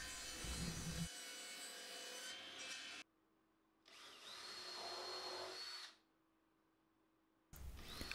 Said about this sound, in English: I get some holes drilled and countersunk along the edges